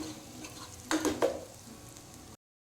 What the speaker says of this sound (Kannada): ಅದನ್ನಿವಾಗ ಫ್ರೈ ಮಾಡಿಕೊಳ್ತಾ ಇದ್ದೇನೆ.